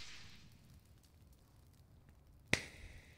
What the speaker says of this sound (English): Oh, the snap.